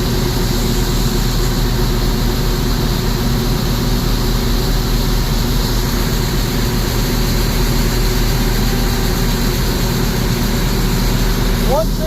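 A John Deere 6620 Titan II combine unloads soybeans through its auger into a seed tender, a loud, steady mechanical drone and rumble with someone talking over it.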